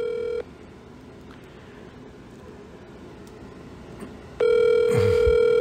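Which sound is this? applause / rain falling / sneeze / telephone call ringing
telephone call ringing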